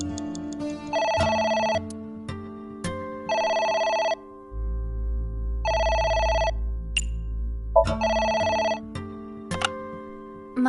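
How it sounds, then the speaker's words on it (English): An electronic telephone in a video game rings in regular repeated bursts, loud and clear, over a steady game music bed with short pauses between rings. "The phone is ringing."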